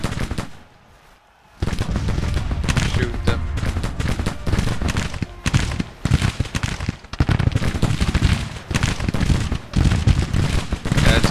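Dense volleys of musket and artillery fire from a Civil War battle video game rattle on almost without pause after a brief quiet opening, loud and close, with voices talking over the din.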